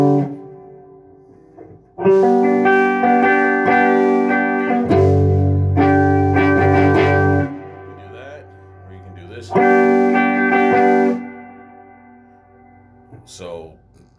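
Guitar in drop B tuning strums and lets ring a G-type chord, with a few chords sounding full and close between quieter gaps where a low voice speaks.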